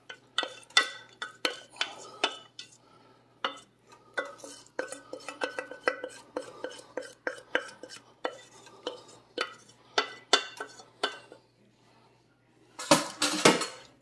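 A spoon scrapes and clinks against a pot while cashew crunch candy mixture is stirred, giving steady rhythmic metallic taps with brief pauses and a louder clatter at the end.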